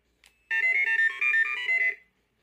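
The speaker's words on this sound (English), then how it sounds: "Let's see if we can make him beep." A single electronic chirp, then a rapid sequence of bright, warbling beeps and tones lasting over a second, clear and close against silence.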